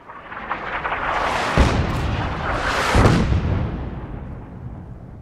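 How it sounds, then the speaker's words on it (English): Artillery fire in the Fallout 4 video game booms in two heavy blasts about a second and a half apart, each followed by a long rumbling roar that slowly fades. "Oh, artillery."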